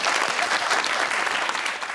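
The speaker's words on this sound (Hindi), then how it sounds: "आपके लिए तालियां बाजी" Television studio audience applauding on a talk show, dense continuous clapping from many hands, loud and close, filling two seconds with no speech.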